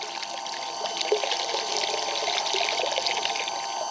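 Hot water from a Gasland tankless water heater pours steadily into a poly stock tank pool, a continuous close splashing rush with a bright hiss and no pauses.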